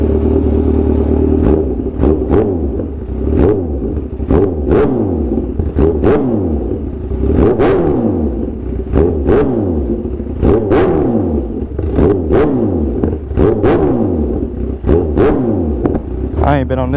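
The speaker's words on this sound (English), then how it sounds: "I ain't been on this bike in so long." A Kawasaki Ninja H2 motorcycle being ridden, its engine revving up and dropping off in repeated rising sweeps, loud and close, with sharp clattering gear changes at regular intervals and no one speaking.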